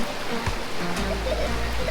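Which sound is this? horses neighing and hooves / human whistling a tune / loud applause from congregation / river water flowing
river water flowing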